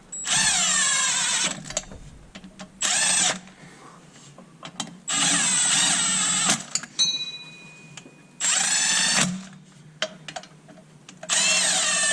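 A cordless impact driver in a non-impacting mode spins bolts down on the water pump of a 2016 Chevy Express 2500, with several loud whirring bursts of varying length separated by quiet pauses and small tool clatter.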